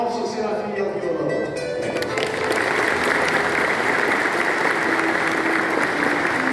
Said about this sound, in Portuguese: Quero também pedir uma salva de palmas